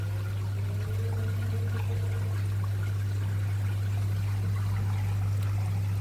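Water pumped through a pipe with a valve, flowing steadily and loudly for the whole stretch with a strong low hum beneath, likely from the pump, and no talking.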